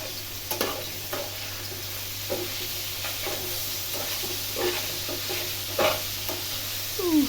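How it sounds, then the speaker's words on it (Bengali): Bitter gourd (karela bhaji) fries in oil as it is stirred in a pan, a continuous close sizzle punctuated by irregular scraping and clinking strokes of the spatula. "এই যে এখন করলা ভাজিটা নাড়াচাড়া করতেছিলাম"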